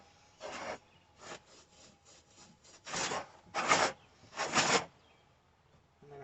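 Steel wool soaked in brake cleaner scrubs over a downrigger swivel base in short, close rasping strokes, several quick light passes followed by three longer, louder bursts, with quiet gaps between.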